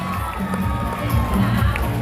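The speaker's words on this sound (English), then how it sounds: "Let's give all our candidates a big round of applause." Crowd at the Hiyas ng Pilipinas 2022 pageant preliminaries at SM Seaside Cebu cheers and applauds the candidates, a dense, loud, continuous wash of clapping and shouting voices with no clear pauses.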